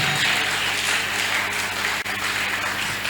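A church congregation applauds and cheers for Jesus during a service, with steady, dense clapping that holds at the same level throughout.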